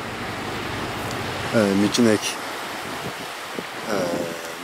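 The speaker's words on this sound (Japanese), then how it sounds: "はい、これがオホーツクの海です。" Sea of Okhotsk waves washing onto the Hokkaido shore, a steady broadband rush mixed with wind noise that continues under short bursts of nearby talk.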